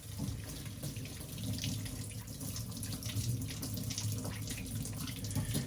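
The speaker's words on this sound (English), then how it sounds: "when you're going to rinse her off, you want to go to a little colder setting" Steady running tap water rinses a gold Rolex watch at a sink, a continuous even splashing hiss with no pauses and no talk.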